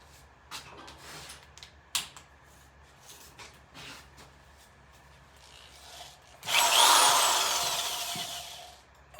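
A power drill hooked to a Predator 212 engine spins up near the end, giving a loud, close whir after several seconds of faint scraping and handling noises.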